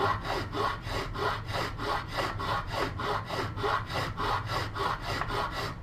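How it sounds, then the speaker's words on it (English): A file working the saw teeth along the spine of a sawback knife gives steady, evenly spaced rasping strokes, about three per second. The strokes are close and loud, with no voices. "just enough to sharpen that tooth here that I'm working on now"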